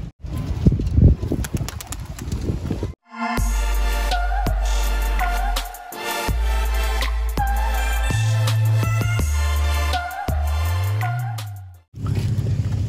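Racing pigeons tossed from a loft flap their wings in a brief flurry of close, dry fluttering bursts, after which loud music with a pulsing bass takes over.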